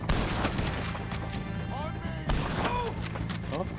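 Gunfire in Red Dead Redemption 2 cracks out in several sharp reports, a heavier blast near the start and another midway, over ongoing game ambience and whistling sounds, loud and close.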